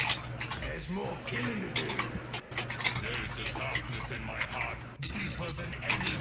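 A mechanical keyboard clatters in quick, uneven bursts of sharp clicks, close and steady throughout, while a voice talks underneath.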